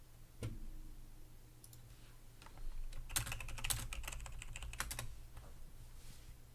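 Rapid clattering keystrokes on a computer keyboard, bursts of typing source code with brief pauses, fairly close and steady with no talk.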